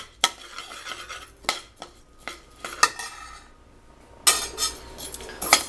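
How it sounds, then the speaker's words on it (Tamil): Rice being dry-roasted and stirred in a pan until golden and crumbly, for making Thiruvathirai kali: a scraping spatula rasps and clinks against the metal in irregular strokes, close and fairly loud, with quieter pauses between bursts. "அரிசி வந்து இதுலேயே உடையிற பதத்துக்கு வறுக்கணும்"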